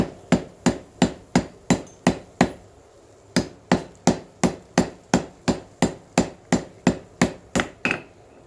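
Steel cable billet hammered during forge welding for cable damascus: loud, close, evenly spaced ringing hammer blows in two runs, about seven strikes, a brief pause, then a dozen more, with no talking.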